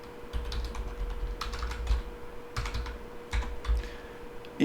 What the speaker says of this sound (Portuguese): Quando eu digitar aqui o CNPJ